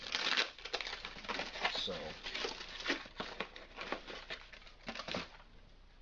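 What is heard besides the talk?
opening packaged boxes, crinkling packaging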